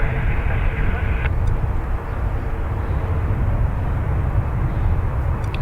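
An Aer Lingus jet, flight EI 101 to Newark, departing Dublin Airport runway 28 right, heard as a loud, steady broadband engine roar with a brief high tone early, with voices present under it.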